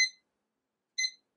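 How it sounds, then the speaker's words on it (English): Two short electronic beeps, about a second apart, come from a Heyaxa WiFi weather station's alarm. Each is a clean, bright tone, fairly quiet against silence, with no talking. "So that alarm's going off now."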